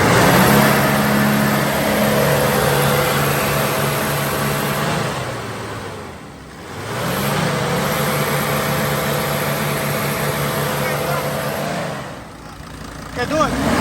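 The engine of a 2003 Dodge Sprinter that won't start without ether is revved twice, each rev climbing and holding before dropping back to idle, close and loud, while people talk nearby.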